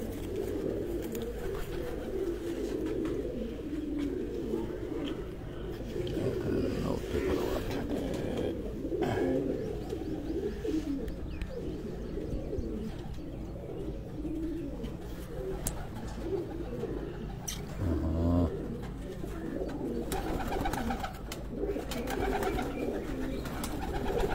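Khaki-colored breed pigeons at a pigeon show in a home in Sargodha coo in a dense, continuous throaty murmur, nearby and steady throughout, with faint background voices now and then.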